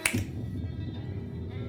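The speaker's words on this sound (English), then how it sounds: "I snap my fingers." A single sharp finger snap at the start, close and crisp, then a faint low room hum for the rest.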